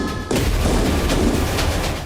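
Firecrackers set off by protesting farmers at a street demonstration, a dense continuous barrage of loud crackling bangs starting abruptly and running for about two seconds.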